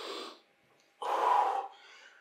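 Heavy breathing during an advanced leg workout with weights: a short exhale, a pause, then a longer, forceful breath out, close to the microphone.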